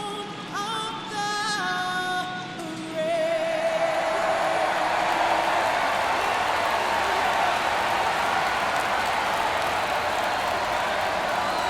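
A World Series Game 1 ballpark crowd in MLB The Show (Arizona Diamondbacks vs Texas Rangers) swells from a fading sung tone into a dense, sustained roar of cheering that holds steady and loud.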